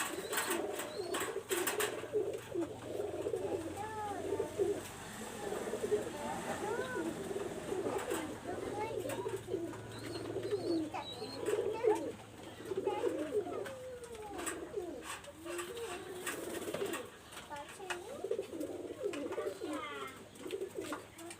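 A loft of pigeons, including a young squab, cooing continuously in overlapping low rolling calls, moderately near, with someone talking over them throughout.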